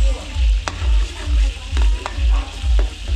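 Garlic and onion sautéing in a large catering pan, loud close sizzle with rhythmic stirring strokes roughly every half second and sharp scrapes of a spatula against the pan, no talking.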